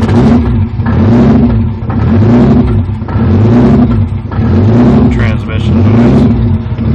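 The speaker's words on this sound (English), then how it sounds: "this is starting up Mega Squirt Turbo S52." A turbocharged S52 engine running on MegaSquirt idles close by after a cold start, a steady, loud mechanical drone with a slightly wavering, hunting rhythm that continues throughout without a break.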